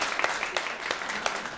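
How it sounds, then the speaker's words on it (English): A church congregation claps for their pastor in a brief, moderate burst of many hands, evenly sustained with a few sharper claps standing out. "Yeah, we can clap for him."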